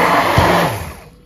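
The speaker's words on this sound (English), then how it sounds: "how much smoother do you think I'll be able to get with a hand blender" A hand blender whirs through sauce, a loud close motor drone with a brief dip as the blade bites, then winding down and fading toward the end, with no talk.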